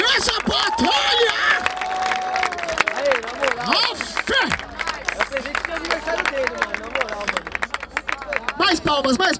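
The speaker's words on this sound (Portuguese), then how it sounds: "Palmas pra essa batalha!" Crowd at a freestyle rap battle final in Barueri, São Paulo, applauding and cheering in a loud, steady wash of claps and voices, with a host shouting over it throughout.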